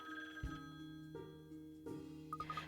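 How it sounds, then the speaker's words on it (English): A telephone rings in the video game Layton's Mystery Journey, with repeated soft tonal rings and a quick trilling burst at the end. It is faint and heard alone, with no speech. "Oh, that's a phone."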